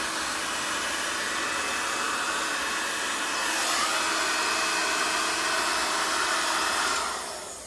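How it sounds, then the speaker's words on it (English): A hair dryer blows air between the cooling fins of a Honda CB1100 motorcycle engine: a steady, close, whooshing motor hiss that swells slightly midway and then cuts off near the end. "So I usually get my wife's hairdryer and..."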